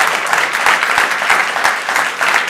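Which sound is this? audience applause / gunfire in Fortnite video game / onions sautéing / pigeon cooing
audience applause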